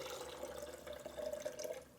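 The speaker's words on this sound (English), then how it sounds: "And then we pour the milk back into the jar," Homemade coconut milk is poured from a container back into a blender jar, making a steady, close liquid splash and trickle with faint dripping throughout.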